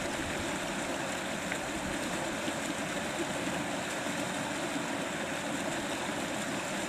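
The Fochabers burn, a stream in a Scottish village, runs down toward the River Spey, giving a steady, unbroken rush of flowing water heard close by with no voices.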